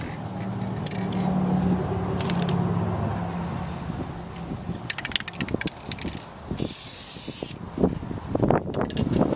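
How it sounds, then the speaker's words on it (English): Spray paint hisses from an aerosol can onto a Ford Crown Vic door handle. The close, loud spray runs steadily at first, then breaks into shorter bursts with rattles and clicks between passes. "basically wanting to start the paint spray before we get to the object that we're painting so that we don't have a wet spot"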